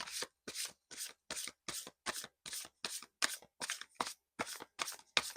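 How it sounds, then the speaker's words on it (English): Tarot cards being shuffled in quick, even bursts, about a dozen crisp riffling strokes with short pauses between, close and fairly quiet, no talking. "We're gonna shuffle for your first card."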